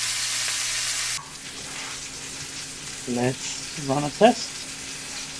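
Unsalted butter sizzles in a very hot pan for filet mignon and shrimp. A bright, loud hiss fills the opening second, then drops to a softer steady crackle as a person talks briefly over it.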